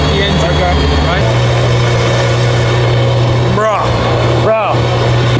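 An Aston Martin Valkyrie Spider's engine runs in quiet mode with exhaust valves closed, a steady loud hum and drone with a low tone, while voices speak over it.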